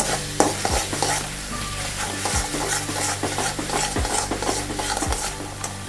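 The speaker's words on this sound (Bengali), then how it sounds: "এবারে এটাকে একটু ভাজা করবো, মানে জাস্ট একটু নাড়িয়ে চাড়িয়ে নেব" A spoon scrapes and stirs through poppy seed paste frying in a hot pan, with a steady sizzle underneath and regular scraping strokes every second or so.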